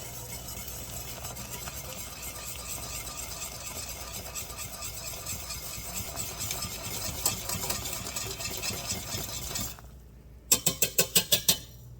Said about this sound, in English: pour and whisk.